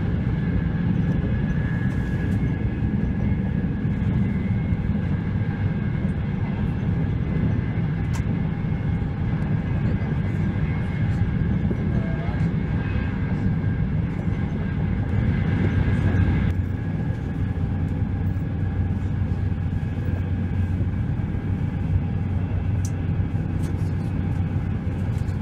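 Inside a train travelling toward Naples, a steady low rumble and hum of the rail carriage fills the whole stretch, with faint clicks and brief bumps over the tracks and no clear talk.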